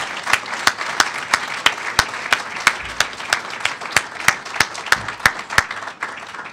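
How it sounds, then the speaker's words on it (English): An audience at the EPA Honor Awards ceremony gives a round of applause, sustained crowd clapping with a few sharp, regularly spaced claps standing out close by. "Please join me in giving everyone here a round of applause."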